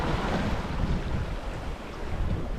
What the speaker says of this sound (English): Wind's picked up just a little bit. It's probably 13, 14 knots.